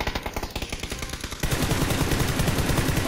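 Rapid automatic gunfire in the PUBG battle royale game, loud bursts of closely spaced shots that thicken into a dense, continuous barrage.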